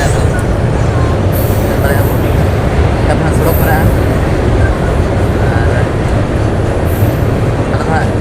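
Train running at speed on a journey from Jharkhand to Assam, with a loud, steady broadband rumble and rush of wheels on track throughout, heard close from on board.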